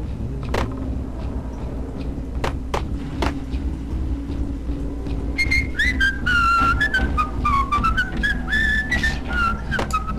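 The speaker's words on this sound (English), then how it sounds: "Nice whistling skills." Melodic whistling from a character in the Max Payne video game rises in sliding tones during the second half, over a steady low game hum with occasional sharp clicks and thumps.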